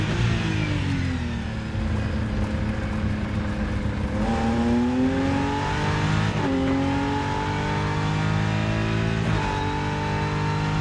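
BMW race car engine in the racing game Rennsport, loud continuous engine roar rising in pitch through repeated upshifts, with sharp drops at each gear change.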